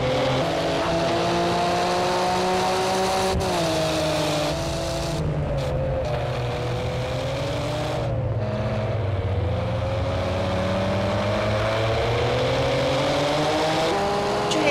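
Group A race cars, including a Porsche, roar around the Leipzig track in Project Cars 2, several engines droning loud and unbroken with pitch rising and falling through gear changes and corners.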